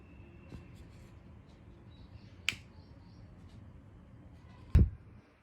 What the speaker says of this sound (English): As you can hear the sound of the magnet.